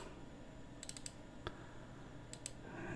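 A computer mouse gives a few faint, quick clicks in a short cluster, then two more a moment later, over a low steady hum.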